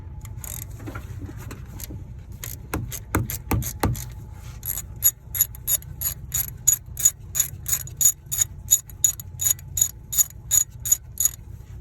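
A ratchet wrench works a water pump bolt on a 2012 Ford Fusion 2.5L, starting with a few scattered clicks then settling into a long, steady run of sharp, close ratcheting clicks with no talk.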